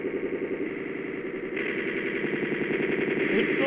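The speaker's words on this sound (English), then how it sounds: "Biggest explosion." A huge chain of TNT explosions in Minecraft from a 5,000-block tower goes off as a continuous rapid crackle of overlapping blasts, steady and loud with no talking.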